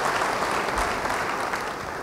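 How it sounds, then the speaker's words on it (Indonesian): A church congregation breaks into full, loud applause, and dense clapping from many people fills the whole stretch at an even level. "Yang mau beri tepuk tangan bagi dia,"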